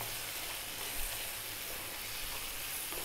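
Spiced mutton curry base with tomatoes cooking down in a pan, a soft steady sizzle and hiss, faint and even throughout with no talk.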